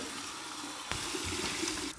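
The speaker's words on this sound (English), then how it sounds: "Here's my cold water rinse, my cold water rinse." A bathroom tap runs cold water for a rinse after a shave, starting with a sharp gush and then pouring steadily and close by, before easing off at the end.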